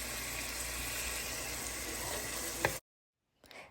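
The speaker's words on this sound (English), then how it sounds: "throw you a little bit of butter in a skillet and let it get all bubbly. Dump the corn in." Corn sizzles and crackles steadily in bubbling butter in a skillet, a close, continuous frying hiss that cuts off abruptly before a faint clatter follows.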